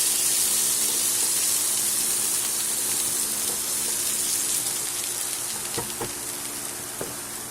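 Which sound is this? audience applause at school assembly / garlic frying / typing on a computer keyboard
garlic frying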